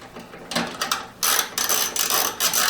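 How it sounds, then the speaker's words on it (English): A 1/4 inch nut driver backs a screw out of a Whirlpool or Kenmore dryer thermostat, giving quick, uneven bursts of clicking ratchet and metal scraping, close and fairly loud, with no one talking. "I'm going to go ahead and use a 1/4 inch again to remove the screw that holds it in place"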